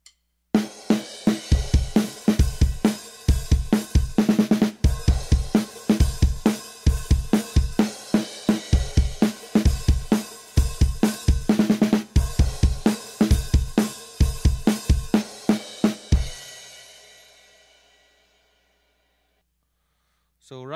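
Drum kit plays a funky fill pattern a little faster, with steady rapid hits, snare and cymbal accents over about sixteen seconds, then a cymbal rings out and fades to silence.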